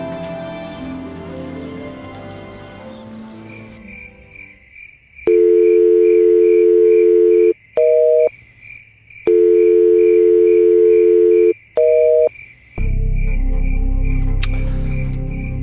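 Ringback tone from an unanswered telephone call, two long steady tone bursts each followed by short pips, loud and alone after a brief stretch of background music, with a low rumble at the end.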